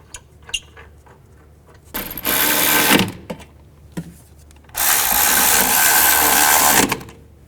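Brake caliper bracket bolts on a 2010-2017 Chevrolet Equinox being run in with a power tool, two loud whirring bursts, the second longer, separated by light metallic clicks and handling.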